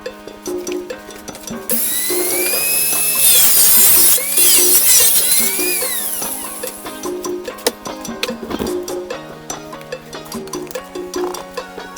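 Power tool cutting a section out of a fibreglass (GRP) test piece for rally car mould making, a loud high whine for a few seconds amid clattering workshop knocks and taps.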